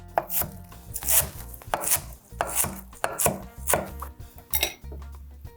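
A knife chopping through smashburger ingredients on a cutting board, a quick irregular run of sharp close knocks and scrapes, loud and alone with no talk.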